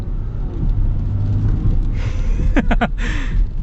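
A 2023 Ram 1500 Laramie EcoDiesel pickup accelerates from a standstill toward 60, a steady low diesel rumble from inside the cab, joined by a few brief sharper sounds near the end.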